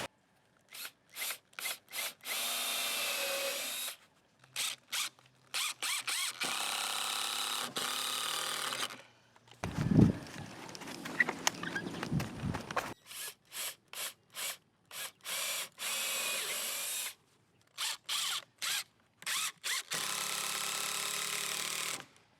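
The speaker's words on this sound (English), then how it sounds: "So now I'm just going to drill a hole this way" A power drill bores a hole into a sagging wooden fence in repeated bursts of whirring, stopping and starting with short pauses, plus a stretch of scraping and handling noise midway; close and fairly loud.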